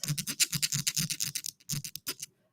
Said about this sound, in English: So you could take another coin and scrape against it